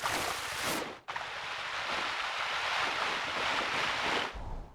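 Steady washing water and surf ambience from a moat of water circling a castle build in the cozy building game Tiny Glade, broad and continuous with a brief dip near the second mark, then fading at the end.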